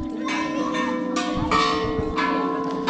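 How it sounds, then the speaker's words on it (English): Bells rung at Doi Suthep temple on a hillside above a city, several overlapping metallic strikes with long ringing tones that sustain and layer, fairly close and steady, with no talk over them. "Some white guy's ringing bells."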